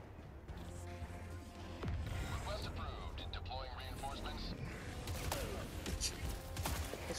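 Gunfire in the video game Helldivers 2 breaks out in a few sharp, loud bursts over a steady battle din, with a player talking throughout.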